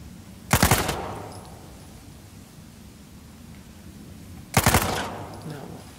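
Gunfire in Uncharted 4 comes as two loud, sharp bursts of rapid shots several seconds apart, each trailing off into a quieter background.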